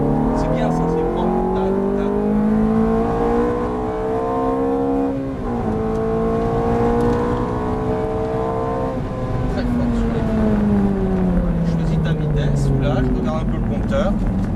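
Ferrari F430 accelerating at full throttle on a track at Chenevière, a loud, close engine roar with harmonics climbing through gears, brief dips at shifts, heard from inside the cockpit with a constant rush of road noise.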